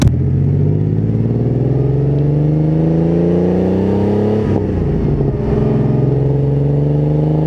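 1987 Porsche 930 Turbo accelerating hard from inside the cabin, a loud continuous engine drone rising steadily in pitch, dropping briefly at a gear change and then climbing again.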